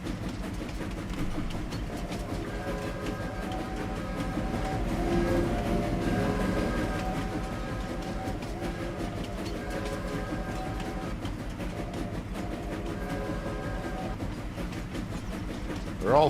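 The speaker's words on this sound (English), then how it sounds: "Longest train ride of my life." A train rolls along in Farming Simulator 25 with a steady rumble and faint rhythmic clatter, tonal squeals rising over the noise, and someone talks over it.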